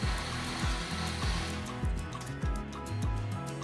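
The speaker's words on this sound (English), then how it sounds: "Add the remaining cilantro leaves and blend it again, but only for 30 seconds." Countertop blender whirring through cilantro leaves for a green yogurt dip, a loud, continuous motor drone with a repeating pulsing churn, close and alone.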